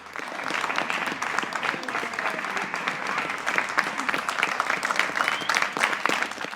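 Continuous applause from a crowd at a street protest by farmers and ranchers, steady dense clapping that holds at an even, fairly loud level throughout.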